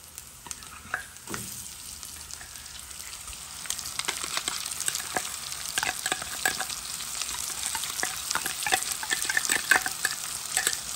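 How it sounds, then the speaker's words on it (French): Canned liver pâté fries in spices in a hot pan while it is stirred. A steady crackling sizzle with scraping stir clicks runs throughout and grows slightly busier toward the end, with no one speaking. "Je vais mettre les boîtes de pâté dedans. Comme ça, il cuit dans les épices."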